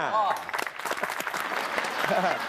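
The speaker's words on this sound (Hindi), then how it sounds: "तालियां" Applause from a studio audience during a comedy show scene, steady dense clapping over about two and a half seconds with voices talking on top.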